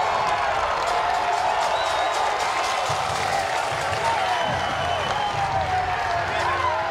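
Lacrosse crowd at an NCAA quarterfinal between Rutgers and UNC roars with sustained cheering and applause after a goal, a dense, steady wash of clapping and shouts from a stadium audience on its feet.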